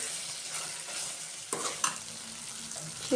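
Gobi manchurian fried over a high flame in a pan, giving a steady soft sizzle with a few stirring scrapes and clicks, close up and without speech.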